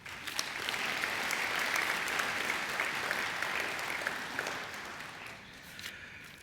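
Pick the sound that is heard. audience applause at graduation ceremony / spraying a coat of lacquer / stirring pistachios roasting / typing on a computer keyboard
audience applause at graduation ceremony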